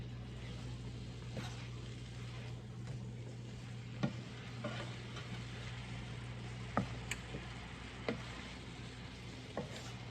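Sausage, cauliflower and zucchini being stirred in a hot skillet: a continuous faint sizzle with a steady hum, broken by occasional sharp clicks and scrapes of the utensil against the pan.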